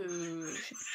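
A grandmother's excited dog whimpers and whines in a high, drawn-out cry close by, while someone speaks over it.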